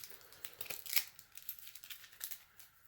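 Quick crisp riffling and soft papery flutters, like a deck of playing cards being shuffled close by, quiet and irregular with no talking.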